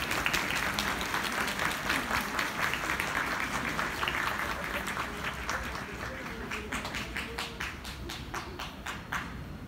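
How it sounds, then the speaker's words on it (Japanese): Audience applause at a Shinto shrine archery ceremony, the Tenchi-barai rite at Ikuta Shrine, a steady crowd clapping continuously throughout and thinning slightly toward the end into more separate, distinct claps. "盛大な拍手をお願いいたします"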